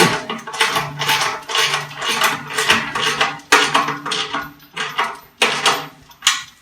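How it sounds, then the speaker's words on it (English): Ratchet tightening nuts and bolts on the hollow steel bars of a PowerBlock U-125 dumbbell stand, giving a close run of rapid clicking bursts with brief pauses between strokes, with no talking. "you can kind of just go back and tighten everything up to a torque"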